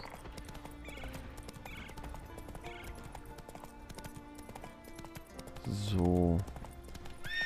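Horse hooves clop in a steady rhythm while riding along a path in The Witcher 3, with a short neigh near the end, and someone talks over them.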